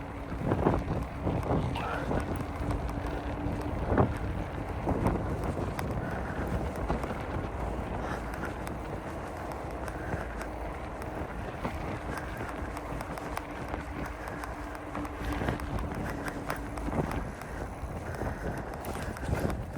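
Steady wind buffets the microphone with a low, continuous rumble, joined by faint scattered clatters and a brief hum in the background.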